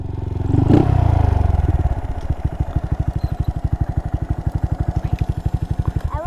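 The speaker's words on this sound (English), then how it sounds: "Uh-oh, the bike stalled." A Honda Monkey motorcycle engine idles with a steady rapid thump, revs briefly with a clatter, then the pulses slow and loosen as it struggles toward a stall, heard up close and loud.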